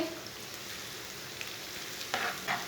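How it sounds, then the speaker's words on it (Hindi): Finely chopped onion fries with whole cumin and coriander seeds in hot oil, giving a soft, steady sizzle with a few faint crackles and stirring scrapes toward the end. "1 बारीक कटा हुआ प्याज डाल लेंगे। प्याज को हल्का सा ब्राउन कर लेंगे।"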